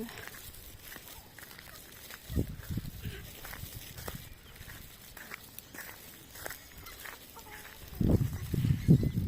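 Farm chickens cluck as they hurry over wanting food, with scratchy footsteps and scuffling close by. The clucking grows louder and busier toward the end.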